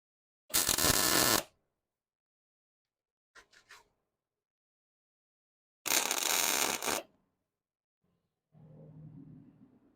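Gas-shielded welding on a crawler hauler build: two loud, buzzing arc bursts of about a second each, with a quiet gap between them, faint handling noise, and a low hum at the end.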